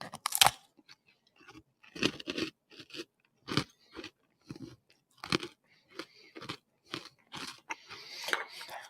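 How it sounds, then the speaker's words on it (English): Crunching bites of a freeze-dried mint chocolate chip ice cream sandwich, a steady series of close, crisp chewing crunches about once a second, with no talking. "so don't mind the crunching"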